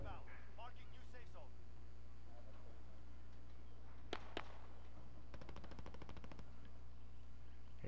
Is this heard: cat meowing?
no